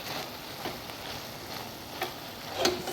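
Spatula stirring moringa leaf stir-fry with grated coconut in a hot pan, soft scraping and light sizzling with a few clicks against the pan, close and fairly quiet.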